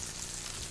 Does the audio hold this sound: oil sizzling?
yes